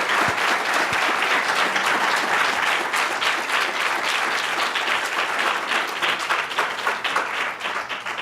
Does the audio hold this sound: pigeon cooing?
no